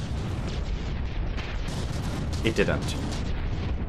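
Battleship shells strike and explode in a From the Depths naval battle, a heavy, continuous rumble of booms and bursts close by, with a brief spoken remark over it.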